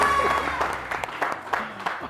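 Studio audience applauding on a TV morning show, scattered claps in a busy mid-level burst over background sound.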